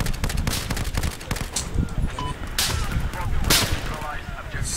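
Sharp gunshots crack in quick, irregular bursts during a Battlefield 4 Conquest Large battle on Operation Locker, a sniper firing amid other weapons, close and loud with dense combat noise between shots.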